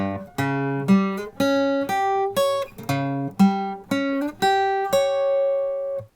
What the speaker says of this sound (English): this first interval pattern doesn't sound really good actually